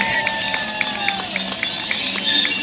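An audience applauds at the close of a volunteer stage show at Knoebels amusement park, a steady dense patter of clapping with crowd noise that continues without a break.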